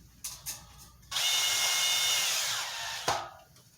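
A power drill drives a screw into a van bed support, a short sharp whir after two brief knocks, running steadily for about two seconds before stopping with a final clunk.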